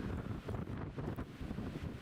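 Strong gusting wind buffets the microphone on the wet, rugged Isle of Mull, a loud continuous roar of broadband rushing noise with surging gusts and no voices.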